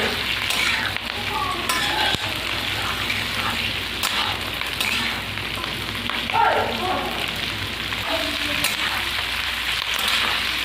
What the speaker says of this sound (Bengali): হালকা করে ভেজে নেব। এগুলো সিদ্ধ হবে সেইভাবে ভেজে নেব।